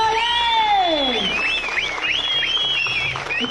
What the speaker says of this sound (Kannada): ರಿಯಲ್ ಹೀರೋ ಕೃಷ್ಣ ಬೈರೇಗೌಡರು ಸರ್ಗೆ ಒಂದು ಜೋರಾದ ಚಪ್ಪಾಳೆ